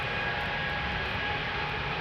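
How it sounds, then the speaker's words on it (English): Embraer E2 jet engines spooling up at Schiphol's Polderbaan, a dense, constant roar with a faint high whine, close and steady throughout a brief stretch. "E2 Embraer to Gothenburg, already spooling up."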